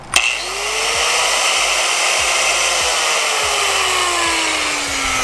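An angle grinder powered through a 1000-watt inverter on a 12-volt solar setup runs with a steady, loud, close motor whine after a brief startup, its pitch slowly sagging as it holds speed.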